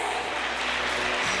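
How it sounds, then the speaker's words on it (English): An audience at a 2007 beauty pageant claps for a finalist in a dense, steady wash of applause that holds at an even level for a brief moment. "Can we hear a round of applause?"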